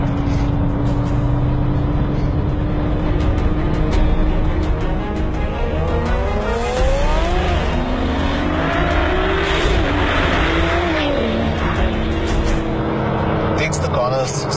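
A Nissan GT-R sports car drives hard on a racetrack, its engine droning and rising in pitch through gear changes, loud and continuous, with speech-like sound mixed in.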